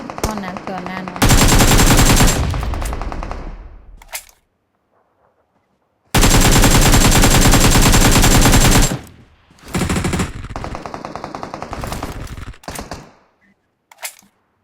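Machine gun fire in PUBG: two long, very loud sustained bursts of rapid automatic shots, followed by shorter spells of shooting, with gaps of near silence and people talking in between.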